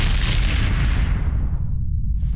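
Mortar fire in the World War II shooter Brothers in Arms: Hell's Highway, a loud booming blast with a heavy low rumble that trails off into a fading roar, with no voices.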